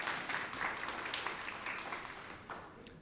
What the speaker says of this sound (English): Let's give him a round of applause for the music